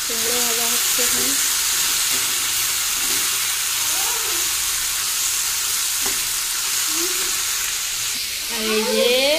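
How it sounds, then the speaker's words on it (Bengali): Pumpkin frying in a pan, a continuous close sizzle with occasional stirring scrapes and faint voices in the background. "কুমড়ো ভাজা হচ্ছে এখানে"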